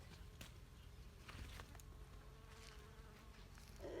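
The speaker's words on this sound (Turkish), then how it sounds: "Bir tane arı varmış bak şurada bir tane arı var." A bee buzzes faintly nearby, a soft steady hum set against quiet outdoor background noise.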